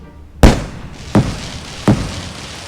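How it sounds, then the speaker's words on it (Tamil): Fireworks burst in a fireworks video game: three loud, sharp booms spaced evenly about three-quarters of a second apart, each trailing into a brief crackling decay, with no talk. "எத்தனை ஷாட்டா இது? வெடிச்சிட்டே இருக்குது"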